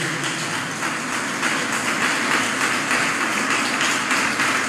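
Sustained, dense applause from a church congregation, a steady wash of many hands clapping at once, loud and even across the whole stretch with no voices on top.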